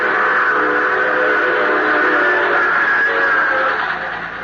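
A train rumbles along steadily, with a loud, sustained whistle tone riding over the continuous mechanical roar.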